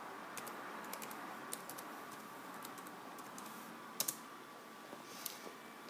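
Quiet tapping on a computer keyboard as a password is entered on a Windows Vista machine, a soft irregular run of key clicks ending in a couple of sharper presses.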